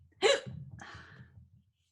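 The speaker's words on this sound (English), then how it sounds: "Got the hiccups." A single sharp hiccup bursts out close to the mic, followed by a faint breathy exhale and low murmur, with no other sound around it.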